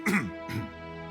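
A character in the video game Pillars of Eternity II coughs or clears his throat twice in quick succession, close and rough, with a soft background hum.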